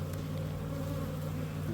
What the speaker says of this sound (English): See the bees hitting my phone.